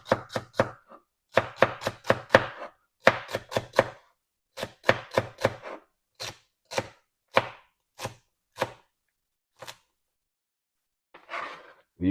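Knife chopping two celery stalks on a cutting board for a breakfast smoothie, a close run of crisp, rhythmic thuds in quick clusters that thin out to single cuts near the end.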